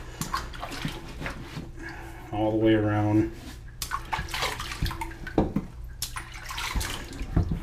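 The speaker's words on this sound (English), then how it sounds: "put your hand in the water and just wet the boot" A hand splashes water over a boot while it is being wetted for cleaning. A short burst of sloshing sits between stretches of someone talking close by.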